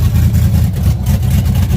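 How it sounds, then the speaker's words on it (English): A truck engine and exhaust rumble loud and close at a drag strip, a steady heavy roar with a dense low-end drone that holds for the whole stretch, no speech over it. "The exhaust sounds like it's right there."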